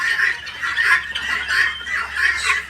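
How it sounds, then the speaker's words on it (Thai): A large breeding flock of guinea fowl, close to a thousand birds, keeps up loud, harsh, rhythmic chattering calls in repeated surges, close and continuous. "ไก่ต๊อก"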